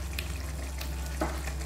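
Spice powders frying in oil in the pan for a fish curry, a quiet continuous sizzle with a few soft stirring scrapes, no talk.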